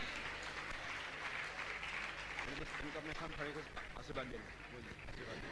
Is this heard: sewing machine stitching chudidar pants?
no